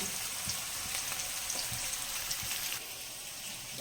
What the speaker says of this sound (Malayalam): നല്ല വെളുത്തുള്ളിയും ചുവന്നുള്ളിയും പെരുംജീരകത്തിൻ്റെ പൊടിയൊക്കെ ചേർത്തിട്ട് മാന്തൽ വറക്കുകയാണ്